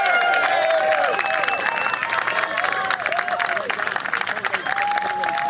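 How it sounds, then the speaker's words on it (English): Crowd applauding and cheering outdoors at Parliament Square, a dense, sustained wash of clapping with raised voices and whoops mixed in throughout. "Can we give Andrew Bridgen a massive round of applause, please? Make some noise."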